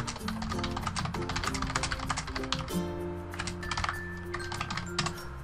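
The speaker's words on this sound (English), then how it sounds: "Let me just type something to him real quick." Rapid, steady typing on a computer keyboard, with dense clicking keystrokes running throughout over background game music.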